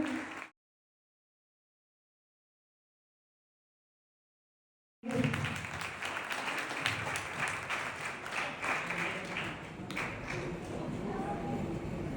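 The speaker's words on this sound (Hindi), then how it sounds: "ताली से एक बार स्वागत करेंगे।" An audience at a political rally in Bihar claps to welcome the village mukhiya, a sustained, fairly loud burst of applause that starts abruptly after a gap of silence and continues dense and even to the end.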